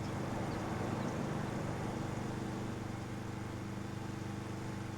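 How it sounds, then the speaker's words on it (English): A struggling car engine in the Farming Simulator 25 video game, set near Alma, Missouri, drones as a steady, dense rumble that holds at an even loudness throughout, with no voices. "the car behind me, its engine, it's got some issues or something."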